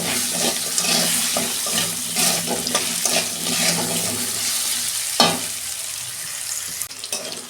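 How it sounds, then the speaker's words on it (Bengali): Potatoes fry in a pan with a close, busy sizzle and a few sharp stirring scrapes, easing off toward the end. "এই যে আলুটা ভাজা হয়ে গেছে"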